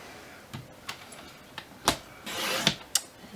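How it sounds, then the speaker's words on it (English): A paper trimmer slicing chocolate-colored cardstock, a series of sharp clicks and swishing cuts close up, with a longer scraping slide of the blade near the end. "I love that sound. This trimmer is just, it's amazing."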